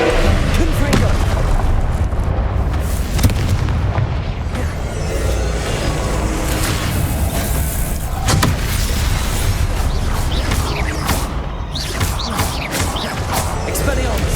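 Confringo explosive spell blasts in the video game Hogwarts Legacy: repeated booming bursts over a dense, continuous wash of game sound, with a voice speaking at times.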